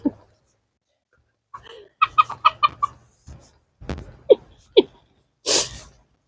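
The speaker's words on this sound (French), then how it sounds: "il est beau ce coq" A rooster in Varaville, Normandy, gives a series of close, loud clucks and short calls in bursts over several seconds, with quiet gaps between them.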